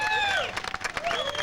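An audience at a live reunion show in Burbank applauds and cheers for Dr. Demento. The dense clapping is loud and close, with crowd voices rising over it.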